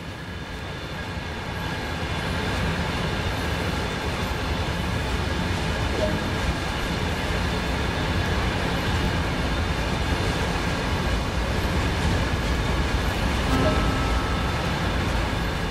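A high-speed train runs steadily along the Köln-Aachen line in the Train Sim World 2 game, its rolling rumble building in the first two seconds and then holding at a constant loud level throughout.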